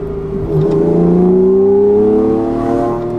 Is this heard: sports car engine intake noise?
yes